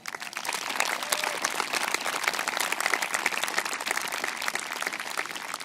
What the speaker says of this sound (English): So to both Garrick and John, they deserve an extra round of applause.